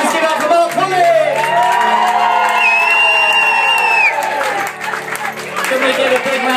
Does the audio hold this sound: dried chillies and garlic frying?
no